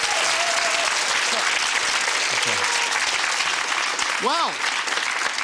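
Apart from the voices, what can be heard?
studio audience applause on game show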